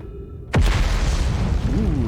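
An explosion in the space exploration game Outer Wilds: a sudden loud boom hits after a quiet moment and rolls on as a thick, rumbling blast for the rest of the moment.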